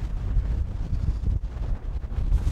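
Breezy wind on a golf course buffets the microphone, giving a rough, gusty rumble that rises and falls, loud and close, with no one speaking.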